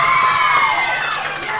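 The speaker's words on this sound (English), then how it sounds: "Best cheering section." Backstage at an awards show, a crowd cheers and whoops loudly from a short distance, a dense wash of excited voices that fades slightly toward the end.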